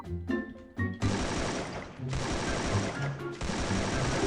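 Bursts of gunfire from the Free Fire battle royale game crackle in rapid, dense volleys that run almost without a break, with a few short pauses between them. The shots are loud and close, and brief game tones and faint voices come through between bursts.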